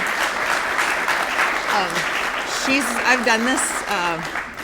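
Audience applause fills a presentation hall after a talk on the history of the National and Florence Crittenton organization: a steady, dense wash of clapping, with a few voices rising over it near the end.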